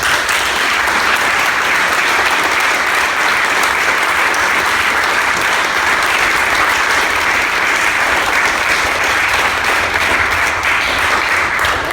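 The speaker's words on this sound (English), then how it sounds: "let's give him a warm round of applause" An audience at a wrestling seminar applauds loudly and continuously, a thick steady roar of many hands clapping close by that holds for the full twelve seconds.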